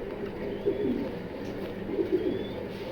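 Male black checker pigeon in a loft, soft low cooing in a couple of short rolling bursts, close and fairly quiet.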